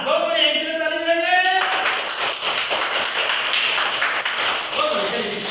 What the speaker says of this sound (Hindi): एक मिनट ताली बजाएंगे